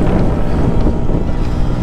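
Riding an old Vespa scooter on a city street, with a steady low engine drone almost buried under heavy, constant wind buffeting on the microphone, loud and close.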